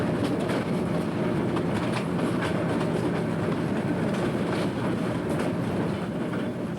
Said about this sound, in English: The train pulls through hills and valleys, chugging along at a steady pace